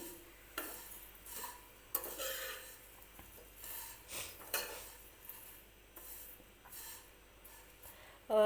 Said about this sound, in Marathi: अगदी थोडासाच आपल्याला या तुपामध्ये भाजून घ्यायच्या आहेत शेवया बारीक गॅसवरती